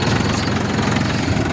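A new tractor's engine idles steadily nearby, a loud continuous low rumble with a slight knocking vibration and no talk over it.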